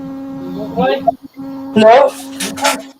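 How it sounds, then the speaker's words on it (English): A camera gives off a steady, low electrical buzz with a tonal hum that runs unbroken beneath intermittent voices and bursts of nearby sound. "it's Tracy's camera that's buzzing"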